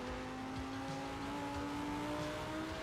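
A race car in the RaceRoom racing game holds a steady high engine note down a straight at nearly 200, the pitch creeping upward as it accelerates, loud and continuous with no talking.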